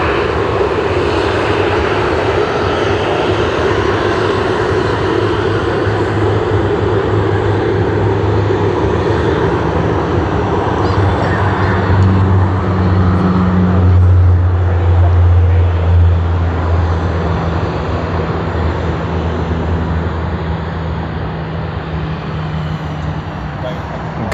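Garuda Indonesia airliner in Pokemon livery at Sydney Airport, its jet engines giving a loud, steady roar that swells and then eases slightly, heard from a distance with broadband wind-like rush throughout.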